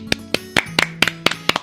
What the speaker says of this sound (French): je t'applaudis maintenant.